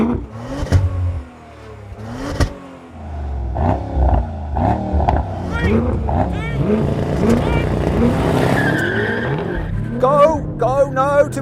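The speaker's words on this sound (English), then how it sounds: "Go, no, too much wheel spin." A Mercedes-AMG E63 S spins its wheels at a drag race launch, its engine revving hard with tyre squeal and rising, wavering pitch. Other cars sound nearby, and people talk throughout.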